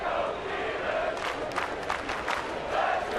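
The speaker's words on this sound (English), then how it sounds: "Fans cheering him on here." A baseball crowd at a Yankees game cheers and roars in a broad, steady wash of voices, swelling mid-way, with a faint announcer voice underneath.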